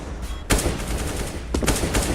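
AK rifle gunfire in a CS:GO match, a couple of sharp close bursts of rapid shots over a busy game background.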